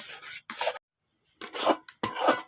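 A spatula scrapes and rubs through drying pumpkin in a pan while it is stirred for sweets, in short rasping strokes separated by brief pauses, close and fairly loud.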